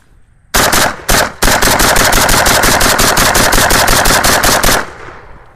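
An AK-47 rifle fires a long rapid automatic burst after two short opening bursts, loud and close, roughly four seconds of continuous shots with no talking.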